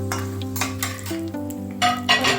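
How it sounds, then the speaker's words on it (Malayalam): Peanuts frying in a pan for lemon rice, with continuous sizzling and a few soft stirring scrapes and pan clinks, close and fairly steady. "കപ്പലണ്ടി മൂത്തിട്ടുണ്ട്."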